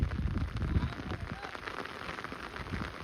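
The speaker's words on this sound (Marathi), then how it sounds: "पाऊस तर लय जोरात येतोय" Heavy rain pours steadily onto a rocky hillside, a dense, close hiss with constant spattering and no break from start to finish.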